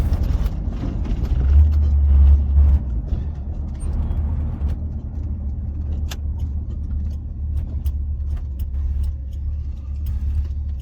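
A car rolls along the road at the start of a camping trip, a steady low engine and road rumble heard from inside the cabin, loud and continuous with small clicks over it.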